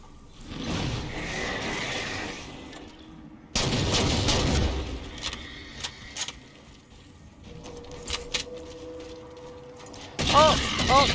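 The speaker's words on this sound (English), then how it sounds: "Those ones shoot like a binary rifle beam" Forerunner binary rifle beams fire in Halo 4 amid bursts of other gunfire and mechanical clanks, loud near shots spaced out over the stretch, with someone talking over parts of it.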